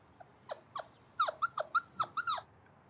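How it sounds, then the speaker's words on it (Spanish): A small dog whimpers and yips in a quick series of short, high squeaks, fairly close and otherwise quiet. "Creo que es un perrito."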